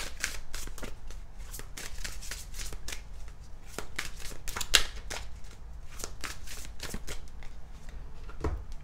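A deck of essential oils cards is shuffled close by, giving a rapid, irregular run of crisp card flicks and riffles with brief pauses and no talking.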